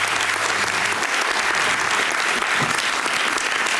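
An audience fills a hall with loud, sustained applause for a finalist at a speech contest in Paris, a continuous wash of many hands clapping without a break.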